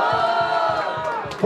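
A crowd roaring and cheering at a rap battle in Londrina, Brazil, a loud sustained swell of voices with a steady pulsing rhythm of chanting or clapping.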